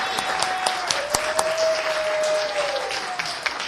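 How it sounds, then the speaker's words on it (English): Applause at a city council meeting honoring a couple's wedding anniversary: a room of people clapping steadily, moderately loud, with a few sharper individual claps standing out over the spread of hands. "let's give them a round of applause"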